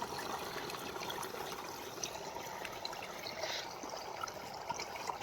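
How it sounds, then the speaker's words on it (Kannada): Water flows steadily after rain, a soft continuous trickling rush at moderate distance with no talk. "ನೀರು ನೋಡ್ರಿ ಹ್ಯಾಂಗೆ ಹೊಂಟಾವು ಫ್ರೆಂಡ್ಸ್"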